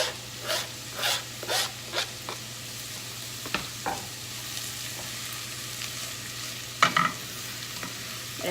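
Chopped garlic and carrots frying in a pan, a low steady sizzle broken by repeated scraping strokes of a utensil stirring, close by, several in a row early and a sharper scrape later, no voices.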